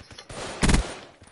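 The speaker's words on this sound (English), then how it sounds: "Yes, King Breezy is using a gun." A short burst of automatic gunfire in Call of Duty, loud and close, from an AK-style rifle, with a fainter shot or two trailing after.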